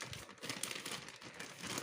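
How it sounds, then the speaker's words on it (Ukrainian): A plastic zip-lock bag of frozen homemade varenyky is folded and pressed shut, giving close, steady crinkling and rustling with small crackles throughout. "Так, ось так сложила пакетик. Тепер на замочок ось закрию."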